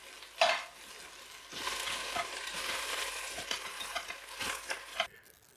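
Beef sizzles steadily as it caramelises in a pan for a red wine stew, with a spoon stirring and scraping close by and a sharp clatter at the start.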